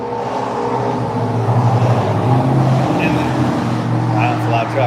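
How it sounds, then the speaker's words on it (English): A loud truck rumbles past near a Port Charlotte spot at sunset, a low engine drone swelling mid-clip with voices talking over it. "it's a loud truck"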